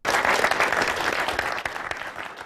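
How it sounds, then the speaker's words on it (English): Sustained clapping applause from a group, dense and steady for a couple of seconds, fairly close and loud with no talk over it. "back to the clapping"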